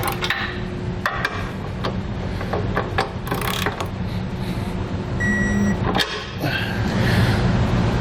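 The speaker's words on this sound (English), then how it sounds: "19mm socket, and we'll tighten our hardware" A ratchet with a 19mm socket clicks in short bursts while tightening trailer hitch bolts under a 2018 Ford Transit T250, with scattered metallic clanks against a steady low background hum.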